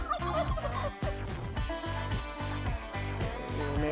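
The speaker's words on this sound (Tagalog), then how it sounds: "Meron pa tayong pabo dito" A farm turkey gobbling repeatedly in a rapid rattling series, close and fairly loud, with a few bird calls faintly mixed in and no talk.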